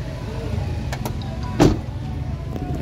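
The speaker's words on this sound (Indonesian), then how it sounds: "Dia dilengkapi dengan power window." Power window on an Isuzu D-Max pickup with a 2.5-litre 4JK1 diesel engine, a short steady electric motor whir heard close inside the cab, with a brief louder clunk near the middle and no talking.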